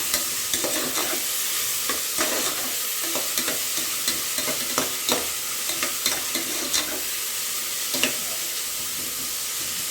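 Sliced onions for kushka fry in a pan with a steady, close sizzle, broken by frequent sharp scrapes and taps of a spoon stirring them.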